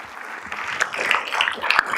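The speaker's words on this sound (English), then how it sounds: "So a round of applause for everyone here." Audience applause at a crypto expo session, a moderate wash of clapping from a conference crowd that swells slightly toward the end, with a few sharper individual claps standing out.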